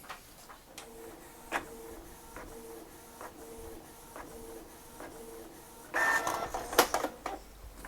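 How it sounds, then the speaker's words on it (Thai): Canon Pixma ink tank inkjet printer running a test print: rhythmic mechanical ticks and whirs of the print head moving back and forth, then a louder burst of paper feeding and clattering near the end, no talking. "โอเคพร้อมแล้วทดลองสั่งปริ้น"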